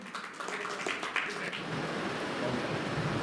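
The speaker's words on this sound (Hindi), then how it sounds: "तालियां बजा करके आप सब लोग स्वागत करें" An audience claps to welcome a guest at a public gathering, a steady, dense patter of many hands that swells slightly and holds at an even level throughout.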